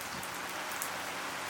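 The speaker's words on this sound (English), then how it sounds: "It's raining outside today." Steady rain falls outside on a rest day in Valencia, a dense, even hiss of drops on surfaces that stays constant and fills the whole moment with no voices.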